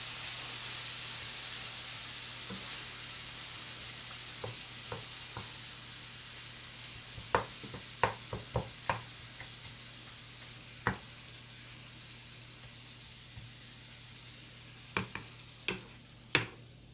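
Onions fry in a pan for a creamy beef and shells pasta, giving a faint, steady sizzle and hiss beneath sharp, irregular clicks and scrapes from stirring and chopping that come in short bursts.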